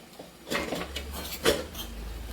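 Colocasia leaf rolls (alu vadi) being turned over in a pan while they cook, with a few soft clinks and scrapes of utensil against cookware, close and moderately quiet, with a low steady hiss underneath.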